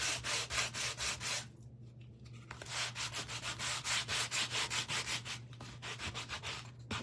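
Rhythmic back-and-forth sanding of a wooden bee craft kit, steady repeated rasping strokes up close with a short pause midway and a faint low hum underneath.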